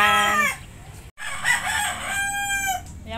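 Several roosters at a rural farm hut crow loudly and close by, their long drawn-out calls overlapping, with a brief break near the middle before another crow rises and trails off.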